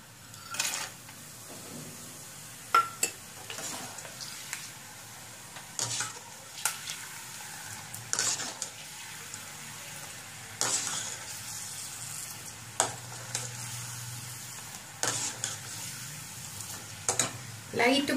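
Cashew nuts frying in hot oil for kara boondi make a soft, continuous sizzle, broken by scattered clinks and stirring scrapes of a spoon against the pan.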